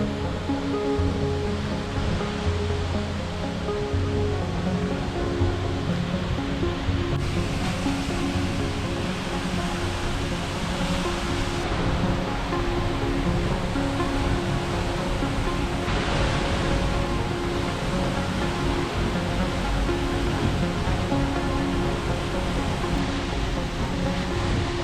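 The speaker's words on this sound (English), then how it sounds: "So the first waterfall that we went to" Seljalandsfoss waterfall in Iceland, a steady, loud rushing roar of falling water that fills the whole stretch without letup, broad and constant like heavy surf, with no voices.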